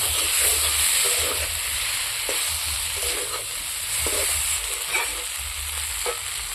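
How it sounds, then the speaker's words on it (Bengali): Vegetables and water go into a simmering rohu fish curry with cauliflower and potato, giving a continuous sizzle and hiss with regular stirring scrapes throughout; no voices. "সবজিগুলো দিয়ে দেবো একটু জল দিয়ে"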